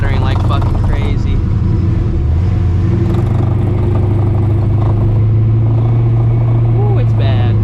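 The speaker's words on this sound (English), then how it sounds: "my clutch is chattering like fucking crazy right now" A 600HP New Edge Ford Mustang with a boosted Coyote engine drives along, its engine droning steadily with clattery low-end shudder from a chattering clutch, loud and close throughout.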